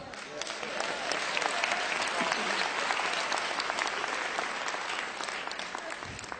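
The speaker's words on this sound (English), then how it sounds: "Clap." A large congregation at a leadership sermon claps in a steady, loud, sustained round, with scattered sharper individual claps over a broad crowd wash and a voice faintly audible beneath near the end.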